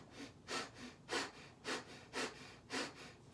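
Slow abdominal breathing, six soft rhythmic breaths in and out, close and quiet, each a breathy whoosh with short gaps between, no talking.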